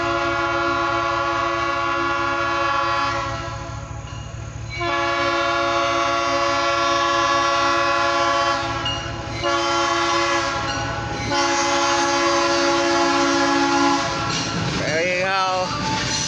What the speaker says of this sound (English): We have an OC&T's very short freight train.